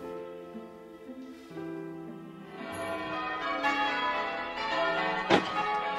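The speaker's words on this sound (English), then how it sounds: "The bells! The bells! Oh, Christ, the bells! The bells, the bells!" Church bells peal in layered, ringing tones that build and swell over several seconds, with a brief sharp strike near the end and no talking.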